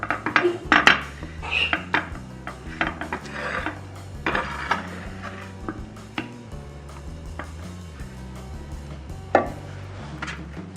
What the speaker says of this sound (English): put a layer of tomato sauce on the bottom of my baking dish